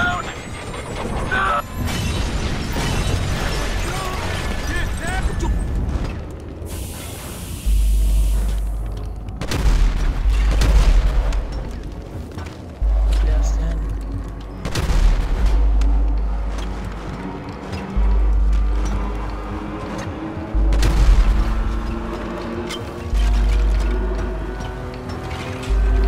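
Gunfire and explosions in GTA V during the bureau raid mission, repeated heavy booms and bursts of shots arriving in waves over engine rumble, with loud chaotic in-game noise throughout.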